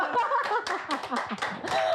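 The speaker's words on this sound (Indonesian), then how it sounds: "Tepuk tangan dulu." Q&A session audience at a live talk event breaking into short bursts of clapping mixed with chuckles and laughter, uneven and fairly close, under a lively room.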